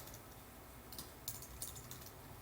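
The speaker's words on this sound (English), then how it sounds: "And I'm just typing in so it's easy to see." A few soft keystrokes clatter on a computer keyboard, faint and sparse against a quiet room with no talk.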